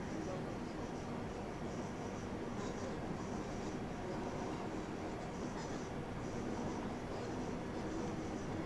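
A Class 323 electric train in Train Simulator 2021 creeping slowly through a curve near Barnt Green, a steady broadband rumble and hum running continuously with faint rhythmic wheel noise, under a voice talking.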